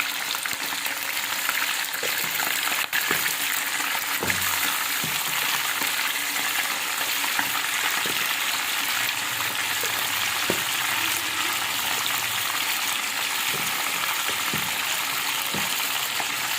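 Pieces of mutton frying in hot oil in a karahi, a dense, continuous sizzle and crackle with occasional spoon scrapes and stirring knocks, close and steady with no talking.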